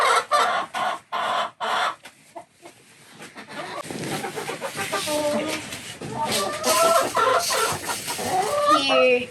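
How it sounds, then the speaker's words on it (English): A mixed flock of backyard homestead chickens clucks and murmurs nearby, a busy overlapping chorus of short calls that builds and continues throughout, with a person speaking over it early on. "These are our chickens. This is a really mixed group."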